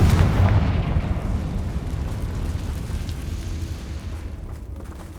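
A Confringo blasting spell in the Hogwarts Legacy video game sets off a deep, booming explosion whose rumble is loudest at the start and slowly fades over several seconds.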